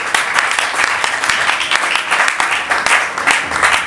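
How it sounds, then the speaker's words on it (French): A church congregation applauds and cheers for God, a dense, steady roar of clapping hands and voices filling the room, loud and continuous throughout. "Est-ce qu'on peut acclamer très fort notre Dieu?"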